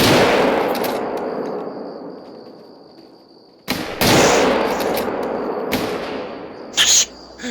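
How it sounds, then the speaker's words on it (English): Rapid gunfire from hunting rifles in theHunter: Call of the Wild, aimed at a Cape buffalo, with sharp shot bursts near 4 and 6 seconds over a dense, loud broadband wash and a final burst at the end. "I just hear gunfire."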